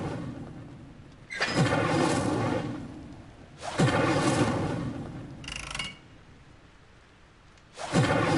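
In Hogwarts Legacy, repeated casts of the Incendio fire spell each burst out as a loud fiery whoosh with a rumbling roar, about three blasts spaced a couple of seconds apart, with quieter gaps between.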